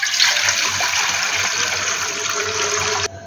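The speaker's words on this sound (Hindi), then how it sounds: "अब यहाँ पे तकरीबन 1 लीटर हम पानी शामिल करेंगे" About a litre of water poured into a cooking pot for chicken mandi, a steady, close, loud gushing stream lasting about three seconds before stopping abruptly, with no talking.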